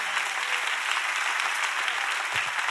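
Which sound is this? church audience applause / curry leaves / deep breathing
church audience applause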